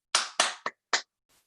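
Four sharp hand claps during a home workout session, two close together, a short third, then a fourth after a pause, loud and near with no talking.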